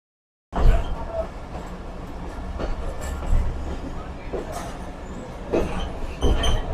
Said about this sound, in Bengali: আর আমরা এই যে যাচ্ছি আমরা এই ট্রেনে